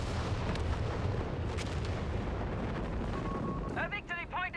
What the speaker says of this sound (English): Here comes the Italian artillery again.